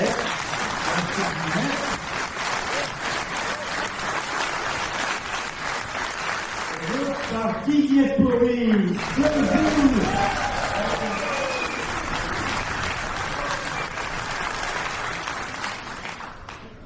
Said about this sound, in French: Merci beaucoup de vos applaudissements.